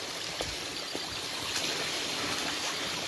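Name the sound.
small waterfall in jungle forest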